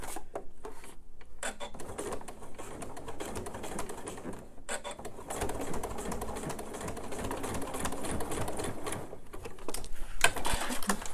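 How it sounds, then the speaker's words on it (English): A sewing machine stitches the bottom seam of a PU purse in a single forward pass, a close rapid mechanical whirr with brief pauses and restarts. "So we're just going to pass it through the machine once."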